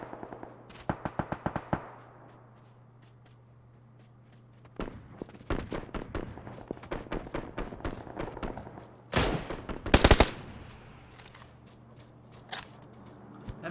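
SKS rifle shots in an esports battle-royale shooter match echo with rapid bursts of sharp cracks, some clustered and some isolated, near and loud against a quiet low hum, pausing between volleys.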